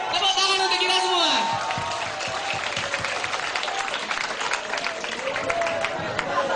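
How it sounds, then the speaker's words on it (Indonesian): Audience applause at a university new-student orientation event in Indonesia, a dense, steady wash of clapping from a large crowd with a few cheers and voices mixed in, sustained loudly throughout. "tepuk tangan untuk kita semua"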